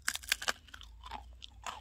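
Crunchy homemade potato cookie being bitten and chewed up close, a few sharp crisp crunches at first, then softer chewing, quiet otherwise.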